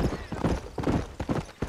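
Horse hooves clip-clop in Red Dead Redemption, set in New Ulster, a steady rhythmic series of close, moderately loud steps with low thuds, under a faint bed of game ambience.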